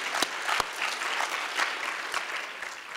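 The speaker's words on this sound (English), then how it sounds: "How about another round of applause for Thelma Golden and also Dr. Alvia Wardlaw." An audience at a keynote conversation gives a steady round of applause: many hands clapping together at a moderate distance, with a few sharper claps standing out.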